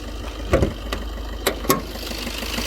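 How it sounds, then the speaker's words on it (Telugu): A 2017 Maruti Baleno Alpha diesel idles steadily at close range, its low rumble broken by a few sharp clicks and knocks. "ఇంజన్ సౌండ్ మాత్రం ఇట్లా ఉంది"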